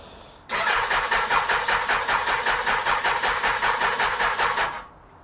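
A Suzuki Bandit 600 motorcycle engine cranks over on the starter with the choke on and no fuel in the carburetors, giving a loud, steady rhythmic churning for about four seconds with no catch before it stops.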